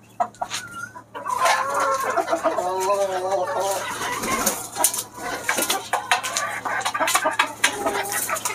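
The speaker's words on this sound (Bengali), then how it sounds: "এই হচ্ছে আমার মুরগিগুলো।" Native domestic chickens in a backyard flock cluck and murmur continuously at close range, with overlapping calls rising and falling over a low steady hum.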